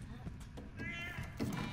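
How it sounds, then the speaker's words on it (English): A cat meows in The Last of Us Left Behind, a short, faint cry heard briefly under a person speaking. "Why exactly is there a cat?"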